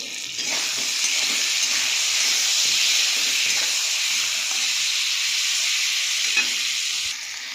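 Loud, steady sizzling hiss of ground cumin and radhuni spice paste frying in hot oil, continuous for several seconds, close by with no talking.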